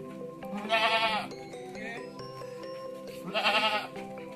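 Goats in a communal pen on a goat farm bleat twice, loud and close, with a steady electronic tone running underneath.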